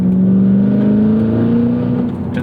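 Cadillac CT5-V Blackwing engine pulling hard under acceleration, a loud, steady rising drone with strong low-end tone climbing smoothly through the revs, close and alone with no talk.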